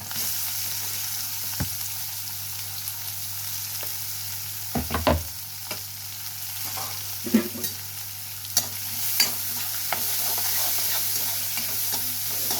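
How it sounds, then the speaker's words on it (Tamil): Garlic and onion fry with popping mustard seeds in oil, a soft steady sizzle over a low hum, punctuated by a few distinct stirring knocks and scrapes at irregular intervals, near and without speech. "இப்போ இது வெங்காயம் நல்லா வதங்கட்டும்"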